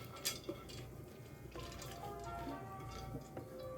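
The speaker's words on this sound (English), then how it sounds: "And now I'm going to put our split peas" Dried split peas tumble from a container into simmering ham broth in a soup pot, a soft rattling pour with a few light clinks and splashes at close range, fairly quiet throughout.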